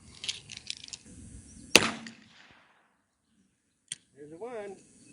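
A 20 gauge shotgun fires a single homemade reload of #4 buckshot at an outdoor range, one sharp close blast followed by a fading tail, with talk before it and a voice afterward.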